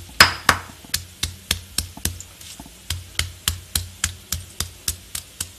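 Dried shrimp being pounded for spicy sweet fried rice, a steady run of about twenty sharp, close knocks at a quick even rhythm, with a few louder strikes at the start and no talking.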